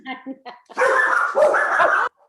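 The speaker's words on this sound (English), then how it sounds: "Her dogs do bark at a little of anybody that walks up" A dog barks a few short times, then a longer, louder burst of barking or yelping follows, fairly close to the microphone.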